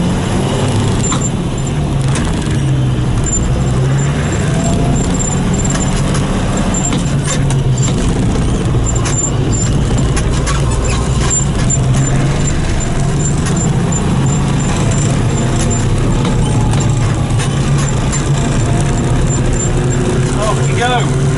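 John Deere 3050 Turbo tractor with its diesel engine running, a loud, steady, close rumble that holds throughout while a person talks over it.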